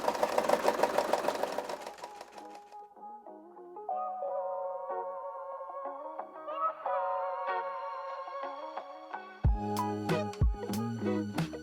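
A Brother SE 625 embroidery machine stitches a patch with a rapid, dense mechanical pulsing for the first few seconds, then music takes over and plays on alone.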